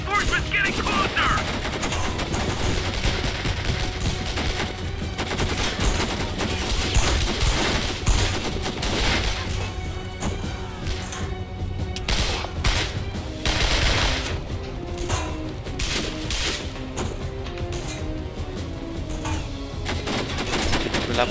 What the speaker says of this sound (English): I'm taking my shot! I'm under heavy fire!